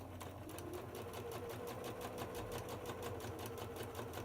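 A sewing machine stitches an orange peel quilt block, running in a steady, fast, even whir of needle strokes close by throughout, with no talking.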